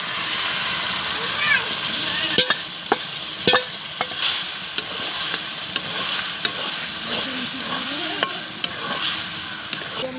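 Pumpkin pieces frying and being stirred into spiced masala in a pan, a loud continuous sizzle broken by repeated spatula scrapes and clacks, with a voice talking over it.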